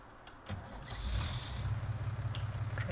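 A tractor engine in Farming Simulator 19 cranks over with a couple of clicks, then catches and settles into a low, rhythmic diesel idle that chugs steadily and close.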